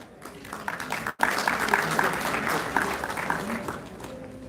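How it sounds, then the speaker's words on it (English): Round of applause at the opening of an IEEE multidisciplinary innovation conference, a dense burst of clapping from a large audience that starts abruptly and fades gradually. "Have a big round of applause."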